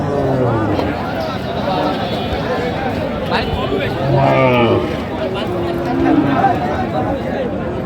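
Cattle mooing at a busy cattle market in Noakhali where dry, bony cows are being bought, several drawn-out moos rising over a steady crowd hubbub with people talking close by.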